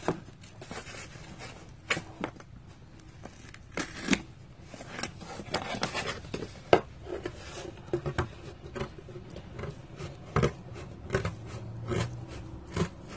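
Scissors snipping and working through a stiff craft surface in a Grinch-themed Christmas project, irregular close crisp cuts and rustles spread across the stretch, fairly quiet with scattered sharper clicks.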